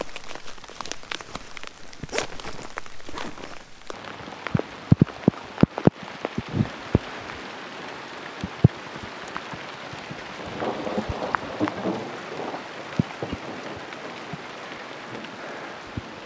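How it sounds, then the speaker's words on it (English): Steady hard patter of hail or heavy rain striking surfaces, with sharp scattered impacts and a low rumble in the background, no voices. "Bad hailstorm."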